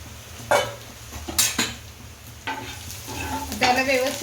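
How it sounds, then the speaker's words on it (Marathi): Garlic, ginger and green chillies hit a hot pan in bursts of sizzling, with a spoon scraping and clinking against the metal between the louder spurts. "पॅन तापलेला आहे आपला आता लसूण अद्रक आणि ग्रीन चिली"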